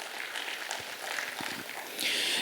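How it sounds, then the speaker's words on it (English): Audience at a national cost and management accountants convention applauding, a dense steady patter of clapping filling the hall, swelling slightly louder near the end. "give them a huge round of applause for all the leadership"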